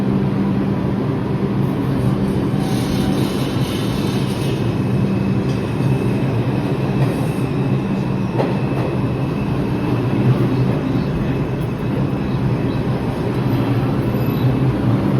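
A New York subway train on the 2 or 3 line rumbles steadily along the tracks with a constant low roar and faint metallic squeals, sustained and loud throughout.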